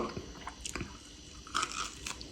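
Close, wet crunching bites of raw garden Senfrauke mustard greens, a few crisp chomps followed by softer chewing.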